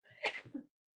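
A single sneeze bursts out at a public hearing, short and fairly faint, with a quick intake and sharp release before the room falls quiet.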